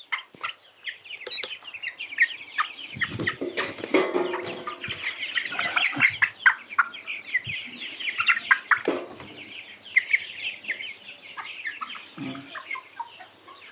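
A flock of color bird chickens on a farm clucks busily and continuously, with scattered sharper squawks and brief wing flutters, near and fairly loud, with no talking.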